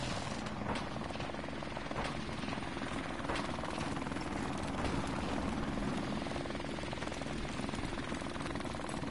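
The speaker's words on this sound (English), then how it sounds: "Friendly helicopter on the way!" A helicopter in the video game Call of Duty Modern Warfare Remastered thrums with a continuous rotor chop and engine drone, steady and fairly loud throughout, with no talk.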